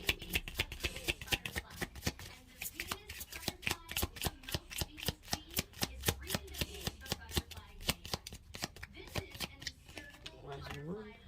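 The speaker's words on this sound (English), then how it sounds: "Let's go and pull a couple cards, energy cards for this pile 3 and their person." Tarot cards are shuffled close up in a rapid, steady riffle of crisp slaps and flutters that continues throughout, with a person speaking over it.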